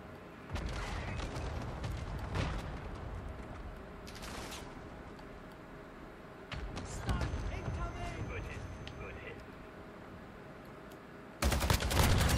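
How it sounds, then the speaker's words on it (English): Video game gunfire sounds as scattered bursts of shots, some close and sharp, others in rapid volleys. Quieter stretches come between them, and a loud burst lands at the very end. "Stop shooting me."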